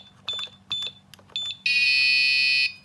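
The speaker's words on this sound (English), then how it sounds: "they get an incorrect buzzer sound" Escape room timer prop with a keypad sounds a long, loud steady electronic buzz for about a second after a few short key beeps, signalling an incorrect code.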